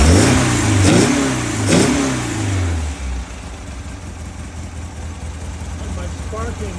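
A 1967 VW Beetle air-cooled engine fitted with a Holley Bug Spray carburetor revs up twice in close succession, loud and near, then drops back to a rough, steady idle.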